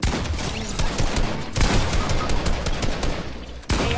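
Dense, continuous bursts of video game gunfire, loud and close, rattling almost without a break before stopping abruptly near the end.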